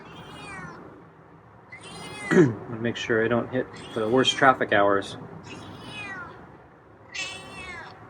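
A feral cat meows loudly and repeatedly up close, long drawn-out yowling cries, while a person talks quietly at the start and end.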